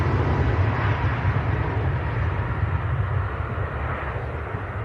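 A Qatar Airways airliner roars at Manchester Airport, a loud, steady engine rumble and roar that fades slightly toward the end, with no talking.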